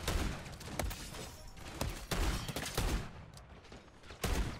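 Rapid bursts of gunfire from enemy mercenaries in Call of Duty MW3 Zombies crackle in uneven volleys with short pauses, several sharp shots standing out near the end, and no talk.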